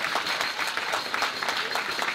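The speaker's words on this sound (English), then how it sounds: "A round of applause, please." An audience at a cancer-related gathering applauds, a steady crowd of clapping with slightly uneven pulses, moderately loud and sustained from start to finish.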